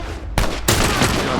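Rifle shot in The Last of Us on Grounded difficulty: two sharp, loud reports land about a third of a second apart, each bursting into a dense, sustained crackle that fills the rest of the moment.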